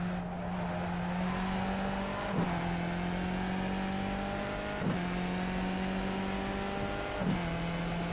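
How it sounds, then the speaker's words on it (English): A race car in the iRacing sim, its engine droning at a steady pitch that dips sharply three times as the brakes lock on corner entry, then recovers, with no talking. "Still locking the brakes nicely."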